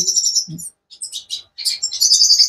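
Captive goldfinches in an aviary chirp in quick high twittering bursts, close and loud, with brief pauses between phrases and no talk.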